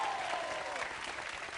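An audience applauds a young woman, a short burst of dense, steady clapping heard at moderate distance, with no speech over it.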